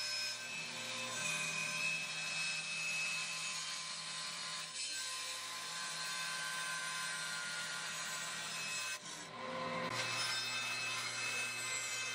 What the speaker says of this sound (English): now cutting away some of the excess material